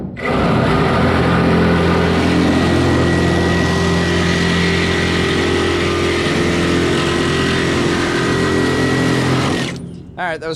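A Milwaukee Super Sawzall fitted with a new Torch blade cuts continuously for about ten seconds, a loud, steady reciprocating buzz close by that cuts off at the end.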